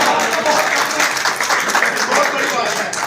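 Crowd applause at a film premiere, a dense steady patter of clapping close by throughout, mixed with voices talking.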